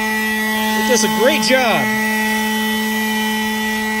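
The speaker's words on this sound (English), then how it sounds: "that concludes the test of my Ryobi 18-volt 1-plus electric power blower" A Ryobi One+ 18-volt electric leaf blower runs with a steady motor whine and airflow hiss, while someone speaks briefly over it.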